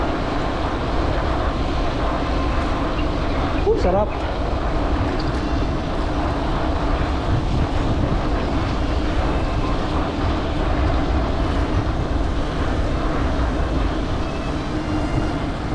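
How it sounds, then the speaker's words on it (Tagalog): Strong wind roars outdoors as a continuous dense rumble with heavy microphone buffeting, steady and loud throughout. A brief spoken word is heard near the start. "Lakas ng hangin."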